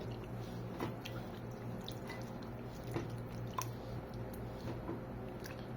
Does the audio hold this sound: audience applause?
no